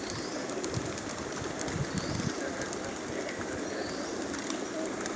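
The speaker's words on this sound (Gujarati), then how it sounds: "કબૂતર ચણવા માટે આવી રહ્યા છે." Pigeons gather on rooftops and a temple to peck at jowar grain scattered for them in the early afternoon, with soft cooing lost in a steady wash of outdoor noise and rustling.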